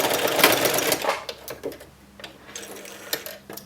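Sewing machine stitching a fabric face mask, loud rapid needle chatter in bursts at first, then quieter intermittent stitching with short clicks and pauses, up close and with no talk.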